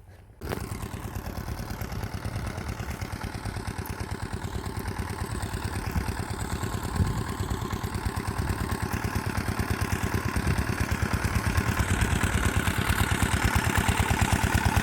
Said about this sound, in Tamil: சவுண்டு கேட்குது பாருங்கள், இன்ஜின் சவுண்டு.